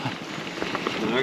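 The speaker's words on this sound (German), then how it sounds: "Regnet, ne?" Rain falls steadily during a cycling trip on a wet day, a soft continuous hiss and patter heard up close without any voices.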